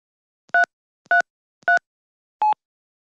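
Four distinct telephone keypad tones from a Yeastar PBX desk phone, spaced evenly about half a second apart, as a password is entered and the pound key pressed; the last tone differs in pitch from the first three, with silence between presses.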